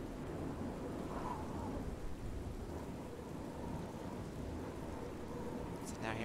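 Steady rain pours in the video game Oblivion while low thunder rumbles beneath it, a continuous dense wash of falling water with deep rolling booms.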